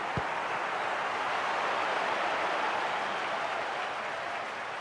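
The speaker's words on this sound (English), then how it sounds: "The crowd certainly think so. Just listen to them." A stadium crowd in the FIFA Mobile football game gives off a continuous broad roar of cheering and applause, even and sustained with no clear peaks, opening with a single low thump.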